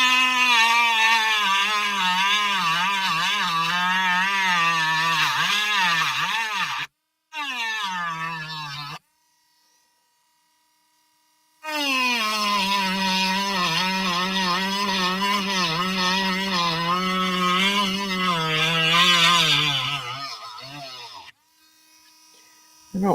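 A wood-burning machine runs in long bursts near the microphone, giving a loud buzzing motor whine whose pitch wavers and dips. It cuts out briefly twice, then falls silent for a few seconds before starting again.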